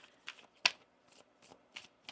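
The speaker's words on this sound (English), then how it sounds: "1 more shuffle." A deck of tarot cards being shuffled by hand, a series of crisp papery riffles and flutters in irregular bursts, close and fairly quiet with no talking.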